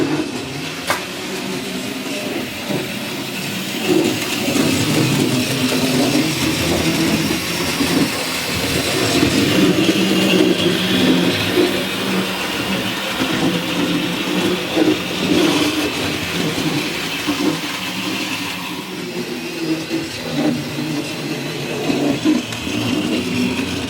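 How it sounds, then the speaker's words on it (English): Small Wrenn 0-6-0T model tank locomotive in Esso private-owner livery rolling along model railway track, a steady continuous running whir with faint rail clicks throughout. "It's basically this little Wrenn private owner Esso livery tank engine that I have."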